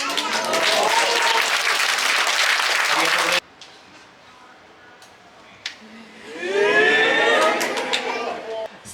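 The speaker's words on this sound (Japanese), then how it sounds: "大きな拍手をお願いいたします" Loud, dense applause from an audience aboard a Sunflower ferry sailing Osaka to Kagoshima, greeting a magic trick and cut off sharply after about three seconds. A quieter stretch follows, then an announcer's amplified voice swells over the room.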